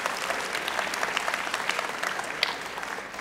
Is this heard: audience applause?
yes